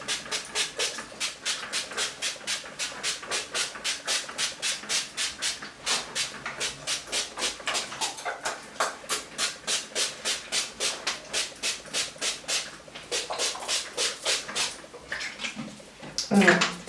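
A spray bottle mists rose water onto hair in rapid, rhythmic pumps, a long run of crisp hissing spritzes, close and fairly quiet, with a brief rustle near the end and no speech.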